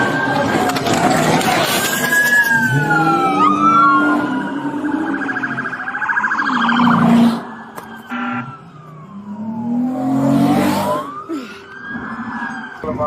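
Ambulance siren wailing close and loud, rising and falling tones that cut out briefly mid-way and then resume, with traffic noise beneath.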